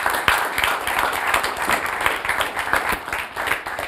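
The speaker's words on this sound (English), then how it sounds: "Let's clap for him." An audience claps for a speaker, a dense, steady patter of many hands applauding together for several seconds, fairly loud and close, with no voices standing out.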